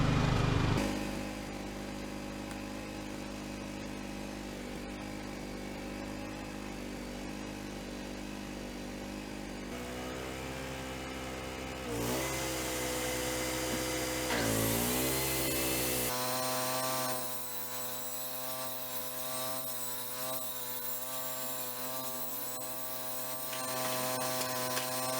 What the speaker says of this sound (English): We will run a table saw and a shop vac at the same time.